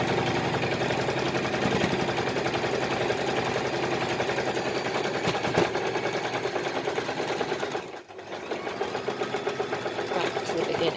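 A sewing machine runs a zigzag stitch along the edge of a fabric scarf, a steady fast mechanical whirring and ticking that carries on with a brief pause near the end before resuming.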